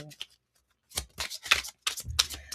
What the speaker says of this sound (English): now that I'm shuffling these cards